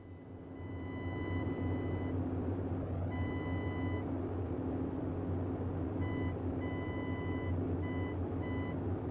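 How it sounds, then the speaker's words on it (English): Morse code radio beacon identifier tone in Microsoft Flight Simulator aboard a Boeing 247D, a thin steady pure tone keyed in short and long dashes in groups, over a loud constant engine drone in the cockpit. "This is the identifier Morse code."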